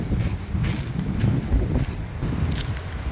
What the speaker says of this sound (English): Man, it's a lot of wind. Oh, you can hear a lot of wind. Strong wind.